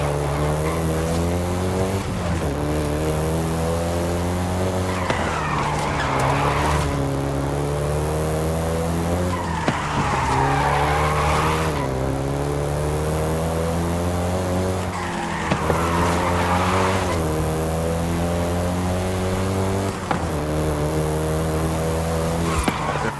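Game VW Golf GTI in Forza Horizon 5 racing, a loud sustained engine drone with rising gear-change pitch sweeps and repeated bursts of tire skidding roughly every five seconds, close and continuous with no talk.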